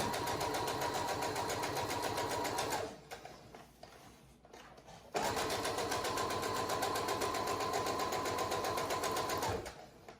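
A sewing machine stitches a breathable face mask in two long, steady runs of rapid mechanical whirring, broken by a short quiet pause in the middle.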